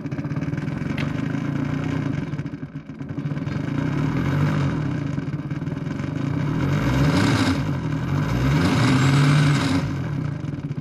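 A Bafang BBSHD mid-drive e-bike motor runs on throttle at assist level 1, giving a steady whirring hum with mechanical clatter that rises and falls slightly as it spins up, fairly close and continuous.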